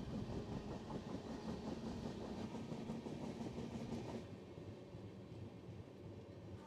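Passenger train running on rails in Andhra Pradesh near Sompeta station, a steady loud rumble with rhythmic clickety-clack that eases slightly in level toward the end, with no voices.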